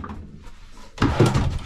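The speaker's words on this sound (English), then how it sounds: "A drawer. And then another drawer underneath there." A drawer in a fifth wheel camper is pulled open, giving a short muffled thunk and sliding rumble after a quiet start.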